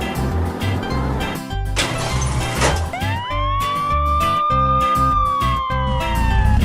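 A cartoon black police car's siren starts after a burst of noise, rising into a steady wail over a busy music-like background, loud and close.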